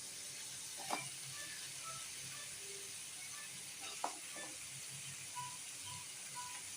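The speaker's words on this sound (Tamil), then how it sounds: "நல்லா ஒரு வதக்கு வதக்கிட்டு அப்புறம் பலாக்கொட்டையை போட்டுக்கலாம்" Curry sautéing in a pan before jackfruit seeds go in gives a faint, steady sizzle, broken by a couple of sharp utensil knocks and light stirring scrapes.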